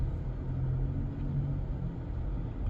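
A Ford Escape plug-in hybrid cruises on a road at moderate speed, giving a steady low rumble and muffled road noise heard from inside the cabin, even and continuous with no talk.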